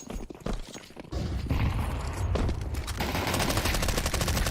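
Rapid SMG bursts and surrounding gunfire in a Counter-Strike 2 match on the Anubis map, loud and dense, stretching across the whole stretch with sharp repeated cracks over a thumping low rumble.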